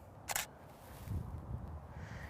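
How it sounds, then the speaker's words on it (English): A single crisp shutter click from a camera taking a test shot with the lens opened to f/4 at 1/250 second, short and close, followed by quiet room tone and soft handling noise. "So now I'm gonna take another test shot."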